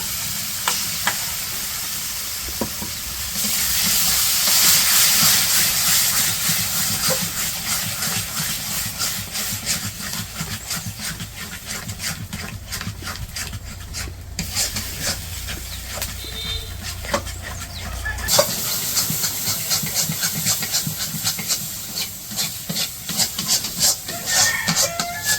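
Mashed taro paste frying in spiced oil in a home kitchen, giving a steady soft sizzle with scraping and stirring throughout, close and moderately quiet, no voices heard.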